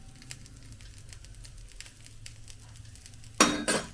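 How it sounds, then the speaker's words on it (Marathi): Oil poured onto a dosa in a hot pan sets off a sudden loud sizzle near the end, after a few seconds of quiet low cooking noise and light clinks. "सेम प्रोसेस आपल्याला ह्याच्यावरती तेल टाकायचं आहे ह्याच्यावरती तुम्हाला क्रिस्पी हवा असेल थोडस जास्त तेल टाकलं तरी चालेल"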